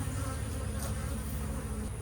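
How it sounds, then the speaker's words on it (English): Honey bees swarm around an opened hive during work to fix a laying worker colony, a steady close buzzing drone that fills the whole moment with no speech. "The bees tend to start out a little spicy when you do this sort of stuff"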